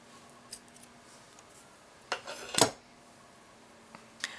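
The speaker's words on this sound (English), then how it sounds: "I'm going to cut that off." Scissors snip through beading thread while finishing Art Deco dangle earrings, one sharp close cut standing out clearly, with a few faint clicks and small handling sounds before and after in a quiet room.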